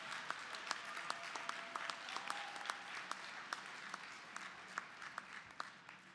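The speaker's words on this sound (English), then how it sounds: "Please turn and applaud your families, friends, and loved ones and show your appreciation for their support." At a university commencement ceremony, graduates applaud their families in a large hall, the clapping soft and distant yet continuous, with sharper individual claps standing out.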